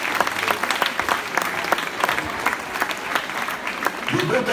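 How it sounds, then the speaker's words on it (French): An audience at a handball club's official 2018-2019 season presentation claps for the teams, dense sustained applause with crowd noise, and a voice speaks over the end. "C'est bon, vous pouvez les applaudir."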